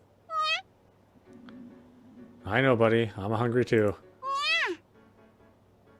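Cat meows in the video game You and Me and Her: a short meow alone, then someone speaks, then a longer, drawn-out meow follows right after his voice, all close and clear.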